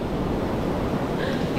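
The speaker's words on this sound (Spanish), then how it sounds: "miren esa ola que viene ahí" Ocean surf breaking on the beach at Choroní, Venezuela, a steady, loud wash of crashing waves with gusty wind noise across the whole stretch.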